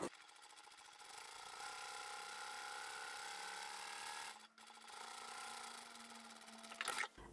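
A sewing machine runs steadily, stitching a seam along a wash bag at just over a quarter-inch allowance, with a steady motor hum and a brief pause midway before it resumes.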